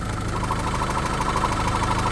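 A 2019 Renault Master van engine idles steadily nearby, an even mechanical drone with a faint rhythmic ticking and no voices.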